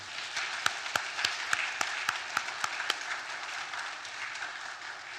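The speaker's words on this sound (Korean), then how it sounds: "우리 박수로 한번 격려해 주시기 바랍니다" A congregation applauds during a church commissioning service: steady, dense clapping across the room with a few sharper, evenly spaced claps standing out near the front.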